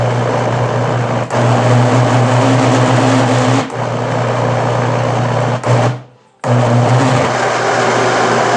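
A kitchen blender whirs steadily and loudly as it grinds Haitian epis seasoning with Maggi, cutting out briefly near the end before starting up again.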